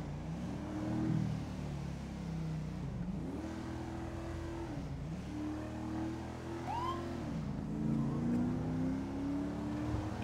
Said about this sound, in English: the sound of the charger is so sweet